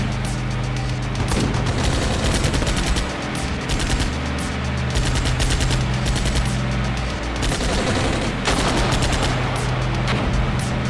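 Dense gunfire and fusillade from an Armored Brigade II battle, with a sharp anti-tank LAW shot among rattling small-arms bursts and low rumble, loud and continuous throughout.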